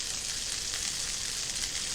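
Butterflied chicken breast pieces frying in a pan over medium-high heat, giving a steady, close, even sizzle that holds without a break and with no talking.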